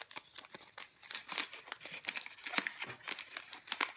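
Gift wrapping paper, black with gold stars, crinkles and rustles in quick bursts close by as a present is unwrapped, with no talking.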